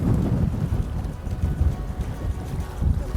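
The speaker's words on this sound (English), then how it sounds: "The wind is everywhere." Wind rumbles and buffets steadily across an outdoor fly-fishing scene, a low, continuous roar with gusty swells throughout and no voices.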